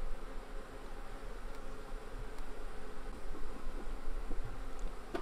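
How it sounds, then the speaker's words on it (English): Honeybees buzz in a dense, steady swarm as they are shaken out of a shipping package into a hive, a continuous close insect drone with faint rustling and no talk. "I'm trying to get all of the bees out because if you leave them in the package, they usually don't come out"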